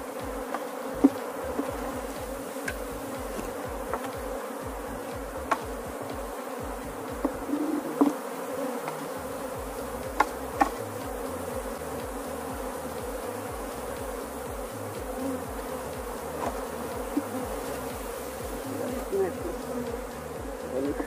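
Honey bees buzz steadily around an open hive during a colony split, a dense continuous drone close by with occasional faint knocks, no voices.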